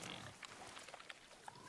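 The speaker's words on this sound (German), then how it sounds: "So, wo ist denn das Schwein?" A wild boar in God of War gives a few faint, short grunts against a quiet outdoor background.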